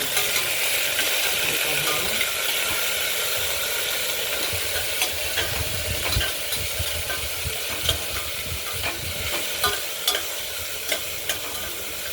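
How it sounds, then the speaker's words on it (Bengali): Washed moong dal stirred and lightly fried in a spiced tempering, a continuous sizzle under repeated scraping and clinking strokes of a spoon against the pan, close and steady. "এগুলোকে নাড়াচাড়া করবো, হালকা ভাজা করবো।"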